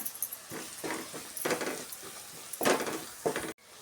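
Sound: spices frying and being stirred in oil for egg fried rice

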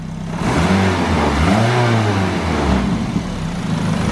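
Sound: K-swapped Mazda FD RX-7 engine revving

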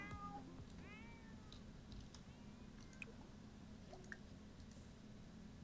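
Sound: cat meowing in video game The Sims 4

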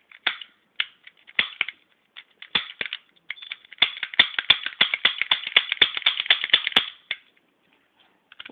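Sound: cap gun firing, suppressed with paper towel

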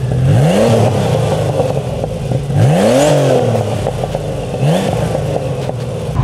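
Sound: Porsche 930 turbo engine revving during a pull

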